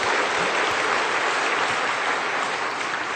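A church congregation bursts into steady, dense applause of thanks during a Sunday sermon, the clapping sustained and even at full volume for the whole stretch, with no talk over it.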